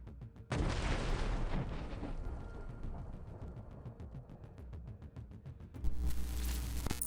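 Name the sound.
explosion of anti-tank mines in a building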